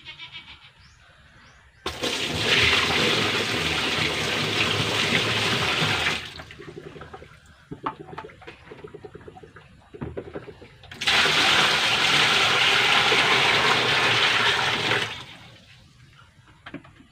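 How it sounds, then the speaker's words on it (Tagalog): Water gushes loudly into a washing machine tub with a pulsator in two long surges, separated by quieter stretches with clicks and handling noise. "so bali lagyan natin ng tubig mga bro"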